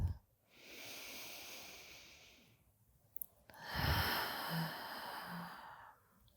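A person takes a final deep breath during a gentle yoga session for low back pain, with a long, steady inhale followed by a pause and then a slow, breathy exhale, close and alone.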